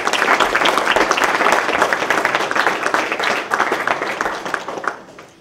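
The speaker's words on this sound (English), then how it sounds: "Please give all of our sponsors a round of applause." An awards ceremony audience claps for event sponsors, a lively burst of crowd applause that holds strong and then tapers off near the end.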